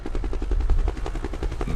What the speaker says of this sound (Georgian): მე ვარ ვერტმფრენი.